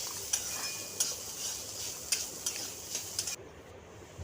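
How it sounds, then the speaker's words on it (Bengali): Chopped onion and carrot sizzle steadily in hot oil with cumin and dried red chilli in a kadai while a utensil clinks and stirs now and then; the frying hiss drops away abruptly near the end. "কড়াইতে তেল গরম করে জিরে দিয়ে দেবো, শুকনো লঙ্কা দিয়ে দেবো"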